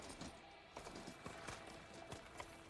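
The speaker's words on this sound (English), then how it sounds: "That's my horse." A horse mount gallops in the video game Horizon Forbidden West, its quick rhythmic hoofbeats faint and steady behind a low background wash, with no talking.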